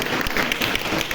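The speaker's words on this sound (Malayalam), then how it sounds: "കൈയടിച്ച് ഒരു കയ്യടിയും കൊടുത്തേ" A church-hall audience at a catechism anniversary gathering claps in a short, dense, steady burst of mixed hand claps.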